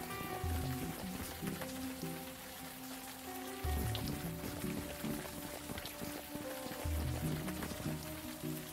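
Steady rain falls in a video game scene, a continuous wash of patter running under layered music throughout.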